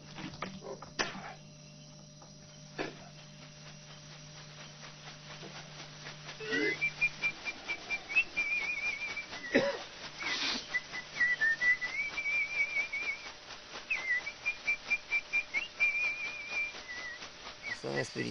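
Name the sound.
shaman whistling during an ayahuasca ceremony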